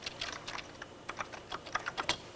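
Typing on a computer keyboard during a Toaster CG VT4000 character-generator demo, a quick irregular run of crisp key clicks heard up close with no talking.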